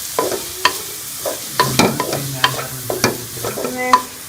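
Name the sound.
chicken frying with onions and green chillies, stirred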